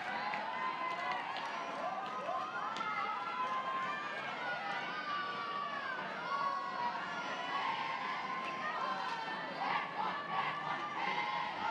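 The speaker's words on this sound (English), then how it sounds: "Crowd filled in nicely on a Tuesday." Crowd noise fills the stands at a college softball game between Oklahoma and Tarleton State, a steady roar of chatter and cheers. Announcers talk over it throughout.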